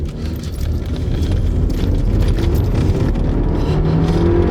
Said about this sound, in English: We're pulling away in comfort now, just see how it goes.